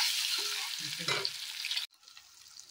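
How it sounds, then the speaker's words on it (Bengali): Eggs fry in a pan with a close, steady sizzle and stirring scrapes that cut off abruptly, leaving a faint quiet tail. "এখানে ডিম ভেজে নিচ্ছি।"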